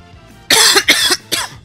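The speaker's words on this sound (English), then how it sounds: "Oh, excuse me, I just coughed." A man coughs three times in quick succession, loud and close, each burst harsh and breathy, during a Slim Jim Series race broadcast at Oxford.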